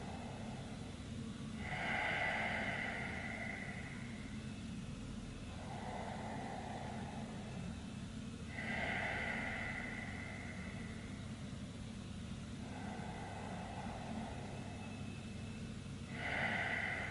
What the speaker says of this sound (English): Four deep breaths more.